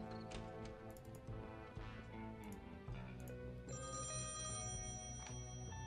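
A telephone rings in the point-and-click adventure game Thimbleweed Park, repeated bell rings steady over busy background music.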